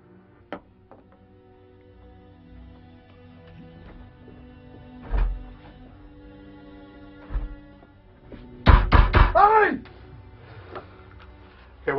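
Loud banging and knocking on a door in a short fiction film, several isolated thuds followed by a burst of rapid heavy pounding near the end, over a quiet room tone.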